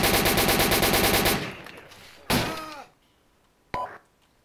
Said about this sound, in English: he just shot me through the fucking floor